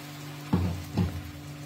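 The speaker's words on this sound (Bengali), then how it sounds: "মশলাটা কষিয়ে নিয়েছি, এবার একটু গরম জল দিয়ে দিলাম" Hot water poured into sautéed biryani masala in a pan sizzles in two short, hissing bursts about half a second apart, close by and fairly loud over a quiet kitchen background.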